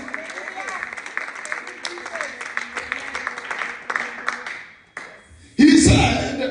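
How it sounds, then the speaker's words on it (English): A church congregation claps hands in a steady rhythm alongside speech and noise, then breaks into a louder burst of applause near the end. "come on, clap your hands, all you people"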